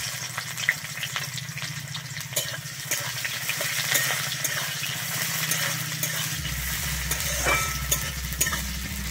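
Chopped onion crackles in hot oil after dried red chilli and five-spice seeds have been fried, with a spatula stirring and scraping the pan in steady strokes; a low hum joins partway through.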